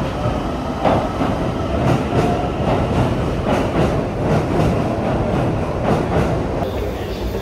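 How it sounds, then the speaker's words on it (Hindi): Tokyo metro train heard from inside a carriage, a loud continuous rumble of wheels on rails with rhythmic clickety-clack and faint squeals throughout. "अभी फिलहाल हम बैठे हैं मेट्रो में और हम जा रहे हैं यहाँ से शिंबुया"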